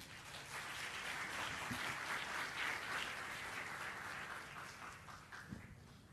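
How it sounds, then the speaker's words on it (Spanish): Audience applause fills a hall at an entrepreneurs' event, CADE Emprendedores 2012, after a talk. The clapping is dense and steady throughout, easing slightly toward the end. "Un aplauso para Eduardo, por favor."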